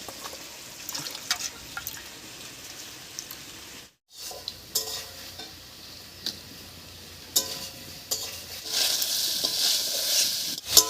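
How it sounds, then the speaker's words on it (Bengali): Potatoes cooking with spices in a hot pan for a Bengali village-style fish curry, soft sizzling and frying with scattered stirring clicks that grow louder and hiss more strongly toward the end. "মশলার সঙ্গে আলুটা ভালো করে কষতে থাক"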